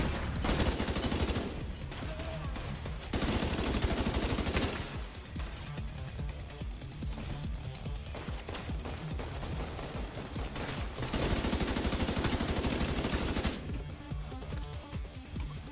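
Sustained bursts of automatic assault rifle fire in The Division 2 video game, loud rapid volleys broken by short pauses, with dense shooting running through the whole stretch.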